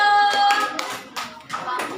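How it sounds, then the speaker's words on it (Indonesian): Students in a classroom clap for a group returning to their seats, a short scattered burst of claps in loose rhythm, moderately close. "Silakan duduk kelompok 4, beri tepuk tangan dulu"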